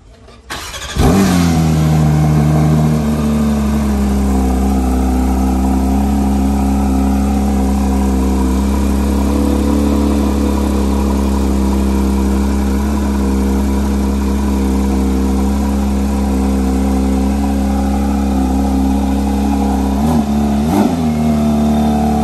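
Porsche 992 GT3 engine catches with a sharp bark, then holds a loud, close, steady high idle for about twenty seconds before a brief rev blip near the end, with no talking.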